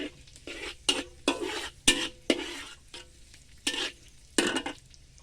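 Chicken liver sizzles in a hot wok while a spatula scrapes and tosses it in repeated bursts, close up, with no talking.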